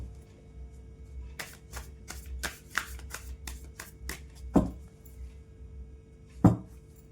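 Tarot cards are shuffled by hand in quick riffling bursts, followed by two sharper, louder snaps as cards are drawn from the deck, close and clear with no talking.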